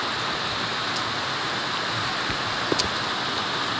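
Steady afternoon rain falls on a farm with tomato plants, a constant even hiss of drops with a faint splash or two, no talking over it.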